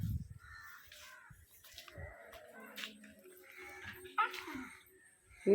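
A dog whimpers and barks in short bursts outdoors while crows caw nearby, with people talking intermittently around the animal.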